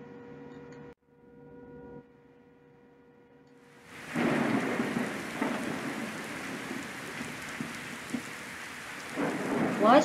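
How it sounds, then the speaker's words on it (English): A stormy-weather sound effect played during a grade 3 English lesson on weather: after a brief faint hum, heavy rain bursts in and pours loudly and steadily, with rumbling thunder under it and a louder swell near the end. "It's stormy."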